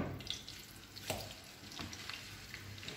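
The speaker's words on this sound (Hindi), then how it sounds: "अब हम इसको बहुत आराम से फ्राई पैन पर रखेंगे" A Peshawari chapli beef kebab patty fries in oil in a frying pan, giving a steady soft sizzle with faint crackles, heard close and alone without talk.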